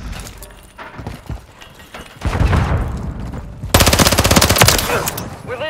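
Gunfire in the multiplayer shooter Call of Duty: Modern Warfare III, with dense automatic bursts and single shots building to a loud sustained rattle, a voice calling out over the firefight.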